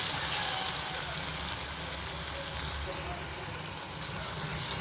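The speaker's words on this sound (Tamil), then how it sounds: "இப்போ இந்த வெங்காயம் இன்னும் கொஞ்சம் கலர் சேஞ்ச் ஆகட்டும் அதை வதக்கிக்கிடுவோம்" Onions sizzle steadily in a hot pan while cooking dried fish thokku, a constant bright crackling hiss that stays even throughout, close to the listener.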